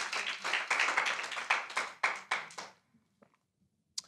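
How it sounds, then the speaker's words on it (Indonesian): A church congregation claps hands together during a worship service, a dense run of quick overlapping claps that stops abruptly, followed by a few faint scattered taps and one last sharp clap. "tepuk tangan bagi Tuhan."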